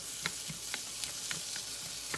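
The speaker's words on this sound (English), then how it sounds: "Now when you're cooking onions, you just wanna sweat them a little bit." Chopped onion sweats in melted butter in a pot for risotto, a soft, quiet sizzle. Small clicks and pops land about every quarter second, with no voices.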